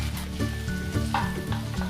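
Tomatoes frying in a pan while being stirred, a close, continuous sizzle broken by repeated scraping strokes of the spoon against the pan.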